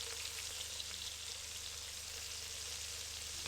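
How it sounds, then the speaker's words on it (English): Unsalted butter melting in a pan on the stove for a creamy Parmesan sauce, giving a steady, even sizzle and hiss that holds at the same level throughout, with a low hum beneath and no talking. "Melt it down and use a spatula to shimmy and shake it."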